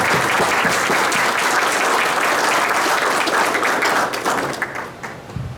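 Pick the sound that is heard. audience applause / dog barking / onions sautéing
audience applause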